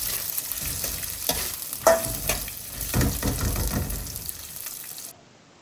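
Whole spices, including coriander, cumin and a little mustard seed, frying with four dried red chillies in a pan: a close sizzle with stirring scrapes that fades into near silence at the end.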